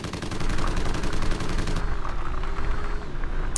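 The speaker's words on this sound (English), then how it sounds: "I got to have the machine gun on top." A dune buggy's roof-mounted machine gun in the Homebrew Vehicle Sandbox game fires a loud, rapid burst of evenly spaced shots, then a continuous rumble and engine-like drone carry on without speech.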